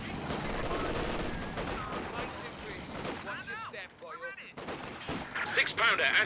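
MG42 machine gun fire in the video game Company of Heroes 2, with rapid gunfire bursts and battle effects layered under continuous game commentary.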